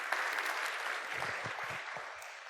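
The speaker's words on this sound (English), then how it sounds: "So give them all a final applause because they made it possible to do the extra things." Closing applause from a conference audience at OrangeCon for the event's sponsors, a soft, steady wash of many hands clapping with a few nearer claps, fairly distant and even throughout.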